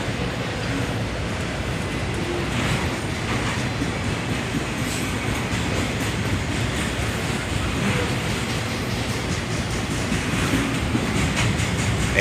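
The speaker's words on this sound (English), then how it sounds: "this CSX Autorack train comes into town" A CSX autorack freight train led by an ET44AH locomotive rolls past close by, a continuous loud roar of wheels with rhythmic clickety-clack and faint squeals throughout.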